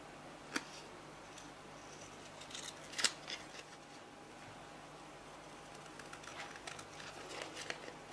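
Quiet, sparse snips come from cutting around the edges of a page in a steampunk leather album, a few faint crisp clicks spaced apart against a soft background hiss.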